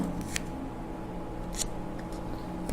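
Scissors snip through cardboard for cartonnage work, two or three crisp close cuts spaced apart over a quiet background.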